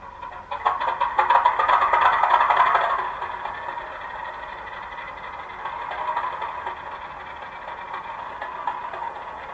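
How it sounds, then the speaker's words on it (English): Hornby Class 50 model diesel locomotive 50017 Royal Oak on a model railway, its diesel engine sound droning loudly for about three seconds, then shutting down to a quieter, steady mechanical hum. "Someone's obviously popped the governor inside the engine room because the engine shut down."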